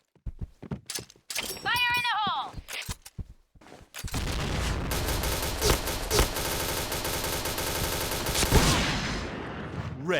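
Gunfire in a shooting video game during a headshot practice session: a voice and a few short tones come first, then continuous rapid bursts of shots run loud and close to the end.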